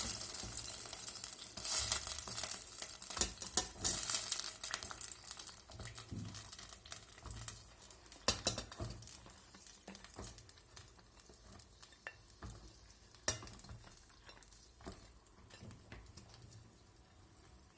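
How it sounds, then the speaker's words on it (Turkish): Peppers drop into a pot of boiling pickling sauce, bringing a burst of sizzling, bubbling and stirring clatter near the start, then steady simmering with scattered clinks, close by and with no one talking. "Sosumuz kaynadı arkadaşlar. Şimdi biberlerimizi içine atıyoruz."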